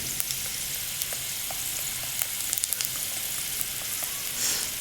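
Garlic, with dry chilies, frying in hot oil in a pan for tamarind rasam, a steady close sizzle with scattered sharp pops and light spoon scraping.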